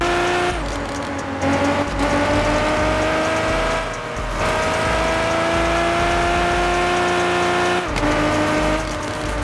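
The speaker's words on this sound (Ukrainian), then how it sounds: "І давайте послухаємо вихлоп цього геліка." A Mercedes G-Class 6x6 engine in Car Parking Multiplayer roars loudly and continuously, its pitch rising through several gear changes with short dips, a deep exhaust growl and no voices.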